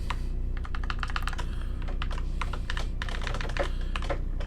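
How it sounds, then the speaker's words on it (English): Steady typing of code on a computer keyboard, close and clear, with rapid clusters of key clicks and brief pauses between bursts over a faint background hum. "So let's try to type this out."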